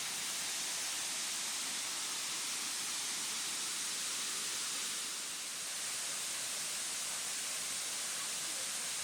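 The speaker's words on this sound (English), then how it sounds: "It took us a few minutes, but we recognised this waterfall." Waterfall in the Valley of the Waters, Blue Mountains, Australia, a steady loud hiss of falling water filling the whole stretch without a break.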